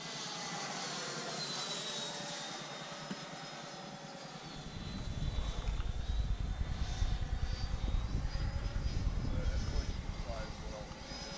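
A Freewing F-22 Raptor RC jet with an upgraded 1900 kV motor, heard from an onboard camera on takeoff: a high electric ducted-fan whine builds into a loud steady roar with rushing wind.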